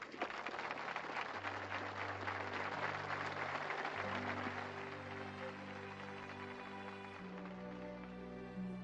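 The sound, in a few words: audience applauding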